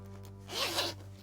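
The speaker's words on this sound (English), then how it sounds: "I wanted to line it in a very specific way with a zipper, which this is an inset zipper" An inset zipper on a handmade lined item with a pocket is pulled once, a brief, close ripping zip lasting about half a second over a steady low hum.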